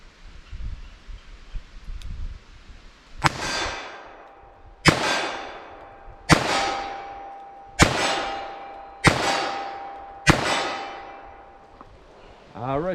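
Six sharp .44 Special handload gunshots fired at 25 yards, spaced about a second and a half apart, each cracking loudly and followed by a ringing clang off a steel target that decays before the next shot.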